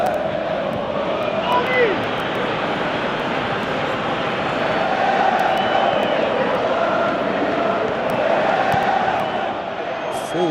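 A football stadium crowd at a Europa League match between Nottingham Forest and Midtjylland, heard as a broad, sustained roar and applause. A commentator talks over it.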